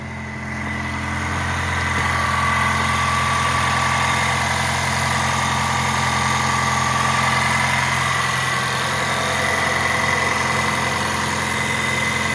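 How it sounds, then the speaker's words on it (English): A 2024 Toyota Tacoma pickup truck engine idles steadily and close by, a low continuous rumble with a faint whine, no voices. "You guys can look at the engine running."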